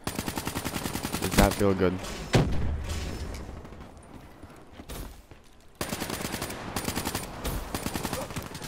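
Rapid automatic gunfire in Call of Duty: Black Ops III, loud rattling bursts with a heavy boom, a quieter lull, then another sustained stream of fast shots, with someone talking briefly over it.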